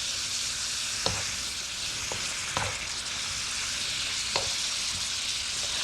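Shrimp sizzling in a hot pan as they are stirred for an Asian dish: a steady, bright frying hiss with a few sharp utensil clicks against the pan, no talking.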